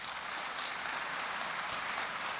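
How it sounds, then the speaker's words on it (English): A crowd applauds at a live talk event with Stacey Abrams and Jake Tapper, giving steady, even clapping that runs throughout at moderate distance, with no voices. "I want you to applaud."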